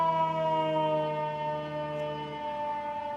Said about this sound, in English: Ambulances, now a fire truck.